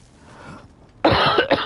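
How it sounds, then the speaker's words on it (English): A person coughs twice in quick succession, close and loud, after a second of quiet room tone. "And I'm coughing a little bit."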